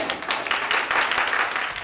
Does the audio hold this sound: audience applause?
yes